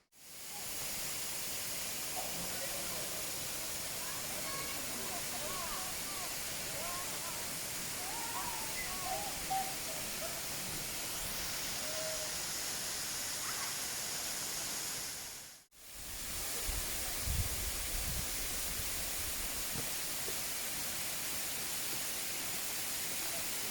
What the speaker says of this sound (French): Voilà une belle passerelle au-dessus d'un torrent magnifique qui descend de là-haut.